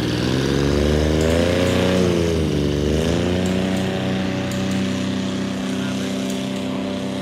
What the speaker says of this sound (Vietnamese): quý anh em nghe thử cái tiếng động cơ ha